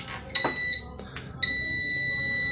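A battery-powered UPS switched on emits a high electronic beep: a short tone, a pause, then a longer continuous beep, loud and close against a quiet room.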